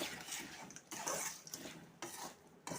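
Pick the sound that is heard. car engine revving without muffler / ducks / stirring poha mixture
stirring poha mixture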